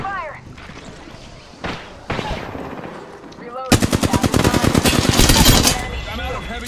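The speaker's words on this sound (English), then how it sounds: "Taking fire." Apex Legends gunfire in a duos match: a few scattered shots, then a long rapid automatic burst of closely spaced cracks, loud and near, with voices talking around it.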